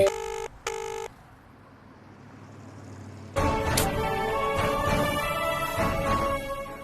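A phone call being dialed in a Tamil TV serial scene: two short, sharp electronic beeps, a quiet stretch, then a louder busy background with tones and clatter.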